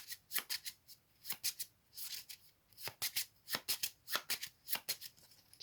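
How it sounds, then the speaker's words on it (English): Playing cards being shuffled in quick repeated riffles, a crisp fluttering burst every half second or so, close up with no talking. "It's the sound of shuffling."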